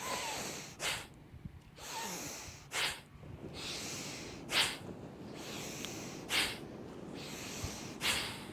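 Dynamic yoga breathing: sharp, forceful nasal exhales come in a steady rhythm about every second and a half, close up, with softer inhaling rushes between them and no talking.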